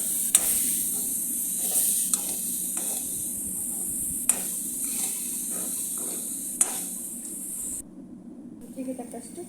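Batata vada frying in hot oil makes a steady, close hiss with occasional sharp crackles and pops, then the sizzle drops off abruptly near the end as a voice speaks over it.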